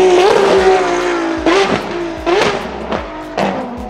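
A race car engine under trail braking gives sharp, loud revving bursts that drop and rise again in quick succession, about four blips in a few seconds, close up and alone.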